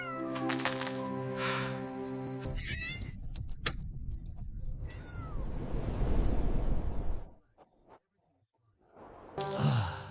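A cartoon cat meows several times in a comic tale about a king and his minister, the cries mixed with music and coin-like clinks, followed by a short silence and a final burst of noise.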